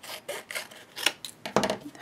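Scissors trimming a sheet of paper for a handmade mini album, a series of short rasping snips in irregular bursts, close and fairly quiet with no talk.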